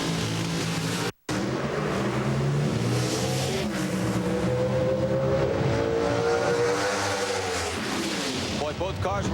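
Two NHRA drag racing cars launch side by side down the strip at the 2005 Ameriquest Mortgage Company Nationals, a loud sustained roar that swells as they accelerate, with announcer commentary over the engines.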